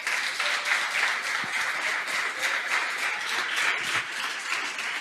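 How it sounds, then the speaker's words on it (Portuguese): A church congregation applauds during a service, a steady wash of many hands clapping that holds evenly for the whole stretch, with no talk over it. "Você pode aplaudir o Senhor?"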